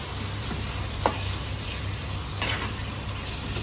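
Three green chillies are stirred into a dish in a pan, a steady close sizzle with a couple of soft scraping stirs and no talking.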